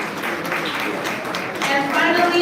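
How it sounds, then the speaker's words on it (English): An audience at a Forbes Afro Future Summit awards gala applauds, a broad wash of clapping that swells toward the end, with a voice speaking over it. "A huge round of applause to the Forbes team in the building."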